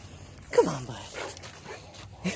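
An excited dog close by lets out a rising whine and a whimper, then makes a few softer yips and a short bark indoors, with no talking.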